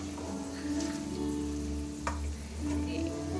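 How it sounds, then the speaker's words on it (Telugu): Ingredients for a homemade chutney fry in a pan with a steady, close sizzle that holds evenly throughout under a low background hum, with no talking. "ఇట్లా దూరగా వేయించుకొని పక్కకు పెట్టుకోవాలండి."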